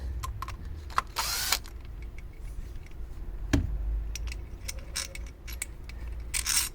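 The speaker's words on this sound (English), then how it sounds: "using our Torx head, we'll just undo those" A Torx bit undoes bolts on a Vauxhall Corsa during servicing, with scattered metallic clicks, ratcheting ticks and short scraping bursts at close range, no talking.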